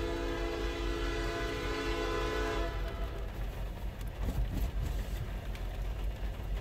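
CN freight locomotives, unit 8811 leading a trio, arriving at Ladysmith: a loud sustained multi-tone air horn blast that cuts off, followed by heavy rumbling engines and rolling wheels passing close.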